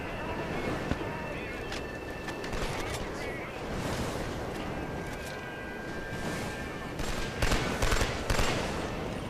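Enemy gunfire in the video game Killzone 2, bursts of rapid shooting mixed with blasts and noisy battlefield ambience, moderately loud and continuous with heavier bursts near the end.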